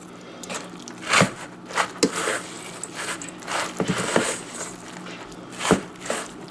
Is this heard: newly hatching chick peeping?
no